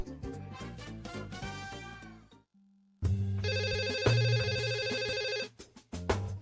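A telephone ringtone plays, starting with a quick run of melodic electronic tones, pausing briefly, then sounding a loud, sustained repeating ring for a few seconds before cutting off.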